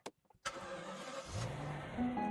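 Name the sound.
car engine starting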